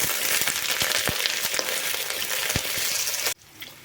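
Curry leaves and onion frying in hot oil for a spicy chicken pepper fry, a close bright sizzle with sharp crackles and pops that cuts off abruptly near the end, leaving a faint quieter tail.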